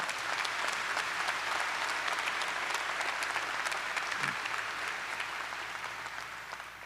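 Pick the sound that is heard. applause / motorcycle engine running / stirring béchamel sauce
applause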